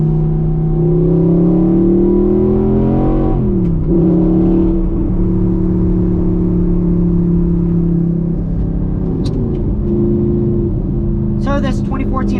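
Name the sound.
2014 Audi R8 4.2 liter V8 engine revving while driving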